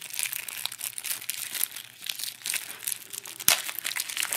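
Close plastic packaging of a Yu-Gi-Oh Marik structure deck crinkles and tears continuously, with a sharp rip near the end.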